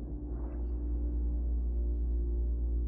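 A VCV Rack modular synth patch running through Volt filters, modulated by Rampage, gives a steady low drone with a sustained harmonic hum and a brief swell near the start, played alone without talk.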